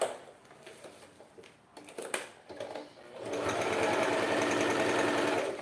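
After a few seconds of light handling and rustling, a sewing machine starts stitching fabric for a wine bottle holder, a fast, steady mechanical chatter that runs continuously at moderate volume.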